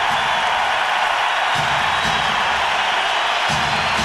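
A crowd in a basketball arena during a 1997 NBA game between the Houston Rockets and Phoenix Suns roars continuously, a dense, steady wash of cheering with faint low thumps pulsing beneath it.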